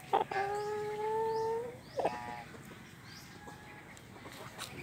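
A newborn chick, a rare tongueless chicken, peeps in clear high chirps: two bright bursts early and mid-clip, then softer peeps near the end, close by.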